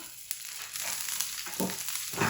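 Onions and green chilies fry on a hot griddle with a steady broadband sizzle, a few brief clatters of something being added or stirred, and louder bursts near the end.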